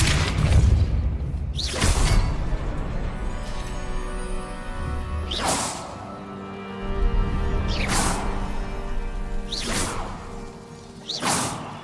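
Depulso spell cast repeatedly in the game Hogwarts Legacy, a series of sharp whooshing blasts with booming impacts spaced a few seconds apart over a low ambient rumble.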